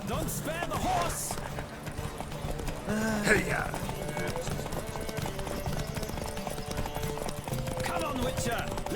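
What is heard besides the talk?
horse galloping hooves in The Witcher 3 video game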